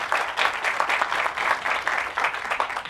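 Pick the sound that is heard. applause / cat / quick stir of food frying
applause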